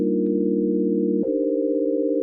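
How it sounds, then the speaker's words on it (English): A steady synthesizer sine-wave tone holds alone for the whole stretch, a pure sustained pitch that steps slightly lower about halfway through, with a brief click at the change and no voices. "You guys know how much I love that sine wave sound."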